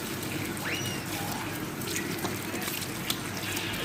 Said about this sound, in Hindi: सब्ज़ी को मैं ऐसे करती हूँ कि अच्छी तरह से मैं पानी में वॉश करके